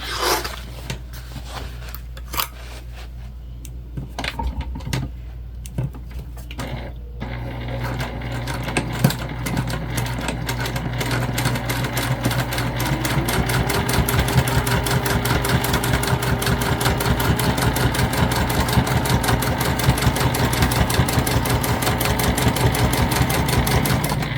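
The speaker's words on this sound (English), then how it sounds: "We'll turn it around and stitch the sides." A sewing machine stitching the sides of a fabric crossbody bag: a few start-stop bursts of needle clatter, then a long steady run of rapid, even mechanical ticking over a low motor hum, close and loud, with no talk.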